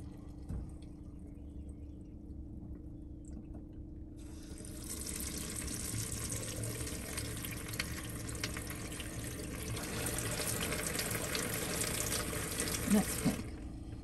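Water runs from an RV shower switched between hot and cold, a faint, steady hiss that begins a few seconds in over a low background hum and continues.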